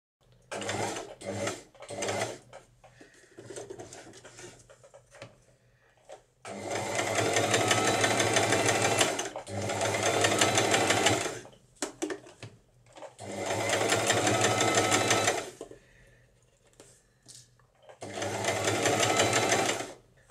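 A sewing machine stitches a fabric appliqué in four long bursts of fast rhythmic mechanical whirring, separated by quieter gaps filled with short clicks and someone speaking while adjusting the work, close and clear.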